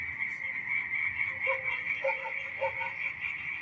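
Frogs croak in a steady chorus over a constant high insect-like drone, with repeated short croaks close by and no talking.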